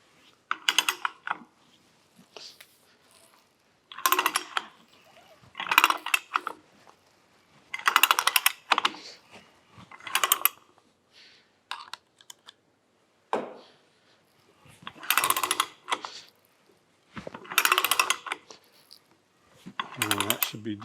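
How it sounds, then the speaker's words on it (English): A die is worked by hand with cutting oil to thread 3/8 pipe, making repeated short bursts of scraping and ratcheting clicks separated by pauses. "This is a 3/8 pipe, and it threads pretty easily."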